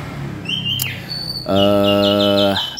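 An orange-headed thrush sings a bright, loud phrase of repeated whistled notes up close, after a quieter chirp and some faint background noise.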